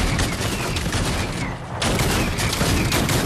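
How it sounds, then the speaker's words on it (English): Primal shotgun fire in Fortnite: loud, dense volleys of shooting fill the whole stretch, pausing briefly midway before resuming, with no talk. "Primal shotgun."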